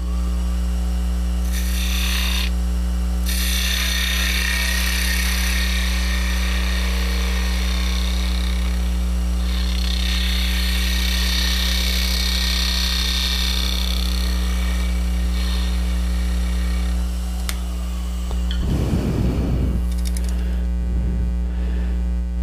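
Skew chisel cutting spinning wood on a lathe, a steady broadband hiss of the cut riding over a constant motor hum, with a brief low rumble near the end.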